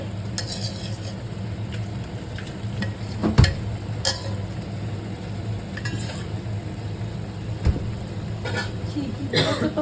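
Potatoes fry in oil in a pan with a steady, close sizzle, broken by occasional sharp clinks of a utensil against the pan.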